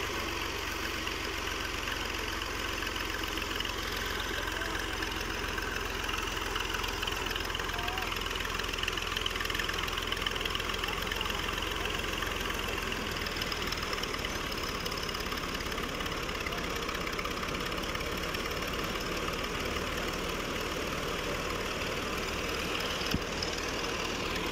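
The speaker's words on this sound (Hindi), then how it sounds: "नवी थ्रैशर है दोस्तों गियर 480 2013 मॉडल है।" A Fiat 480 tractor from 2013 runs a new thresher, giving a steady, loud mechanical drone with a constant engine hum and busy rattling from the machinery, unbroken throughout with no clear talk.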